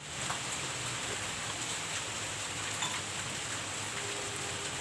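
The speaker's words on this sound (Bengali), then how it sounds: "বৃষ্টি হচ্ছে ঝিরঝির করে, শব্দ পাচ্ছ তোমরা?" Light drizzling rain on a Sunday, a soft, steady hiss of fine drops pattering continuously and fairly faintly, with no voices over it.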